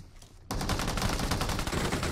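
Rapid gunfire in a mobile battle-royale shooter game bursts in suddenly after a quiet moment, a dense sustained volley of loud shots with no talk.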